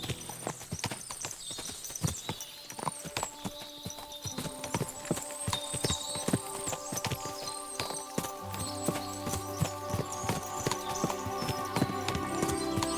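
Many horses' hooves clip-clop continuously in the video game Kingdom Come: Deliverance II over a busy, layered background with occasional whinnies, a steady trotting clatter lasting throughout.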